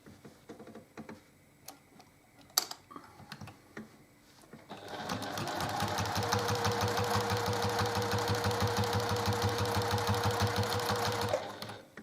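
Sewing machine stitching in the ditch along quilt seams, a steady loud whirring run from about five seconds to eleven, after a few faint ticks and clicks.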